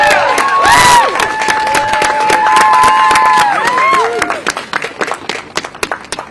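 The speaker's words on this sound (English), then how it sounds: "can we actually just get a round of applause for them" Protesters at an outdoor union rally over Washington Post layoffs cheer and whoop loudly, with shouting voices rising over a crowd, then the noise gives way to scattered, tapering handclaps.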